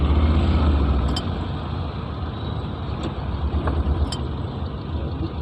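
Night road traffic hums on steadily with engine rumble, a couple of sharp hisses like air brakes and passing vehicles, fairly loud and without talk.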